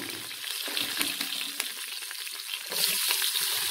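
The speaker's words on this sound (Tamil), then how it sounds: "எண்ணெயை ஊற்றிட்டு தாளிப்பு உள்ளுக்கு போடுங்க, நல்லா வதக்குங்க" Tempering spices fry in hot oil with a bright, steady sizzle and small crackling pops, close and continuous, and the hiss grows louder near the end.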